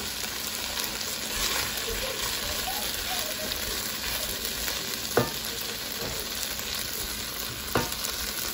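Ginger sizzles in hot oil in a pan for chicken fried rice, a dense, constant frying crackle close up, with a couple of sharp clanks of a spoon stirring against the pan.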